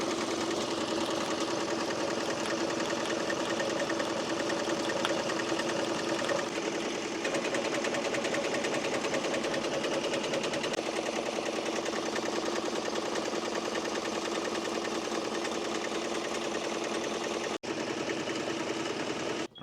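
An embroidery machine stitching 3D puff foam letters on a New Era hat runs with a steady, fast mechanical chatter, loud and continuous for the whole stretch, with a brief dip partway through; no voices.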